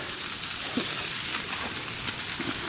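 Burgers sizzling in a pan on a camp stove at a wild campsite, a steady close frying hiss with soft crackles and spits running throughout, no voices.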